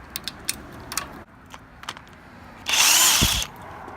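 A power tool, not an impact gun, spins out oil pan bolts during an Ecotec engine swap into a Miata: a few short clicks and ratchet ticks, then one loud, near whirring burst of about a second.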